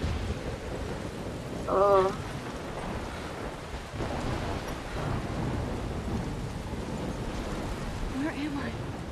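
Thunderstorm rumble and rain noise in the Life is Strange video game fill the scene continuously, with a player's voice briefly exclaiming over the storm.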